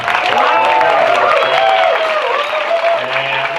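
A crowd at a public event applauds for Jânio, a continuous wash of clapping under a mix of voices and some cheering.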